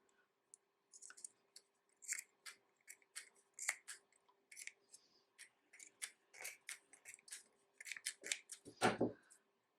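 Scissors snip excess yarn from a crochet top, a series of quick, close metallic cuts in irregular clusters against a quiet background, ending with a slightly louder rustle.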